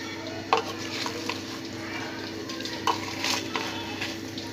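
Salt and spices are stirred into a mutton marinade, with a spoon scraping and clinking against the bowl a few times over a steady low background hum and no talking.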